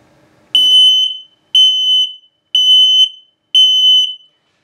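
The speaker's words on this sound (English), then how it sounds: "and then of course the low battery alarm." In a 2023 Sunset Trail Super Lite 253RB travel trailer, an RV LP and carbon monoxide detector sounds its low battery alarm: four loud, evenly spaced high-pitched electronic beeps, each about half a second long, with silence in between.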